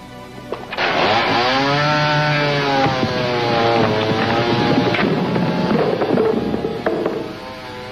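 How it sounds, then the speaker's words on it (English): A chainsaw engine roars continuously at close range, its pitch rising and falling as the throttle revs, with a gusty wind-like rush behind it. "when using a chainsaw, always wear safety goggles"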